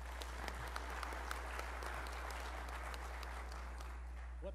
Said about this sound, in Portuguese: Uma salva de palmas e vamos lá.